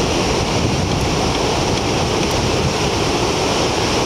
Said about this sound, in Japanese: 北東寄りのうねりが南防波堤の脇にも入っていて、ライド可能な状況ですね。